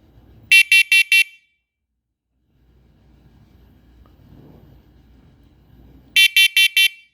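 A First Alert SMCO100V-AC smoke and carbon monoxide alarm sounds two bursts of four loud, shrill, evenly spaced beeps, separated by a low murmur of background noise.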